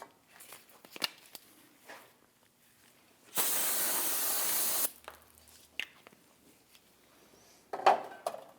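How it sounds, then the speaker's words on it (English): Solvent cleaner sprays onto the brake hub of a 2009-2017 Volvo XC60 in one steady, close hiss about a second and a half long, set between light clinks and handling noises. "give it a spray with a spray solvent and clean it up"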